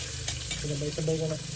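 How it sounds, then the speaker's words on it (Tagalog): Beef goes into a hot pan at a campsite and sizzles steadily with stirring, while a voice speaks briefly over it. "lalagay na natin yung baka."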